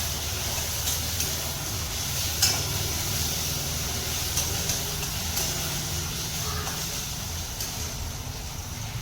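Potato pieces fry in a pan with crushed peanuts and sago, salted to soften, giving a steady close sizzle with occasional scrapes and clinks of stirring throughout, no voices.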